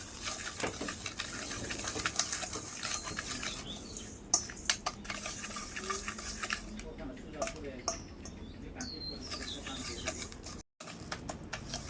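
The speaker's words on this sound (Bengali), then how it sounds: "ভালো করে মিশিয়ে নেব।" Sugar mixture being stirred and mixed in a bowl, with clinking utensil taps and scraping that run steadily throughout, close and moderately loud, pausing briefly near the end.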